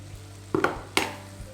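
Spice powders frying on low flame in a pan for Kerala-style egg roast, with a few sharp scraping stirs of a spoon over a faint sizzle.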